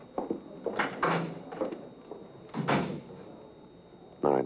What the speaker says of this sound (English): You better get out of here, Dave. Use the side door